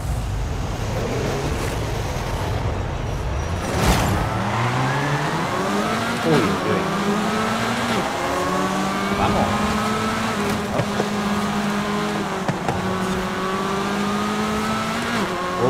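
A light rear-wheel-drive car in Forza Horizon 5 drives with its engine revving steadily through gear changes, rising and falling pitch over constant road and tire noise, close and loud throughout.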